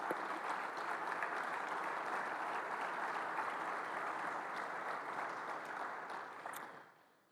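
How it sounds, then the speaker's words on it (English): A press-conference audience applauds at an introductory presser for a Baylor baseball coach, steady crowd clapping holding even for about six seconds before fading out at the end, with no talk over it. "So if you'll join me in giving them a round of applause."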